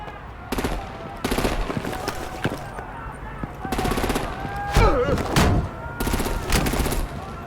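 Bursts of rapid gunfire and heavy artillery in the Batman: The Enemy Within video game arrive in three loud volleys, with voices heard between them.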